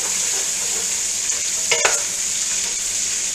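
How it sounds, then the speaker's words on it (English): Onions for potato soup cook down in a pot with a steady, loud sizzle and hiss, broken by a brief scrape of a spoon stirring midway; no voices. "it'll still continue to render as these onions are cooking down"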